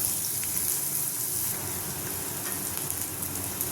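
Chopped onions frying in a pan, a steady bright sizzle and crackle throughout with no voices.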